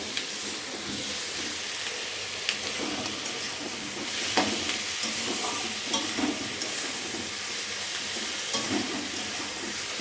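Chicken pieces and potatoes fry in a pan for a dry Bengali curry, a continuous close sizzle and hiss broken by scattered scrapes and clicks of stirring, steady throughout with no one speaking.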